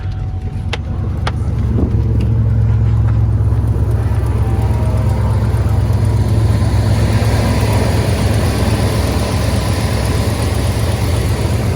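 A Hummer H2 idling on a chilly day with a leaking exhaust manifold gives a steady, loud low engine drone that holds throughout the clip, with no clear separate ticking standing out.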